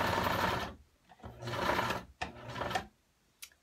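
A sewing machine top stitching fabric runs in short bursts, a close, rapid mechanical whir with clear pauses between each burst and no talk.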